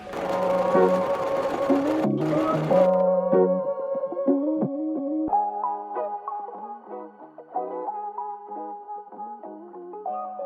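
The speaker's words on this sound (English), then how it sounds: "I'm just going to sew straight down the line here" A sewing machine stitches fabric in a straight line for a dress makeover, its motor whirring loudly in steady runs that stop and restart several times, with pitch shifts as the speed changes.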